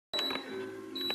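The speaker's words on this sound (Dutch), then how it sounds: "De vaatwasser gaat gelijk piepen." A dishwasher at home beeps as its long cleaning cycle ends, a thin, high electronic tone sounding briefly, pausing, then returning, close by and fairly soft with no voices.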